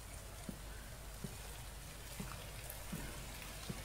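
Rain falls in the survival video game The Infected as a steady, faint hiss of drops with soft periodic ticks, continuous and without speech.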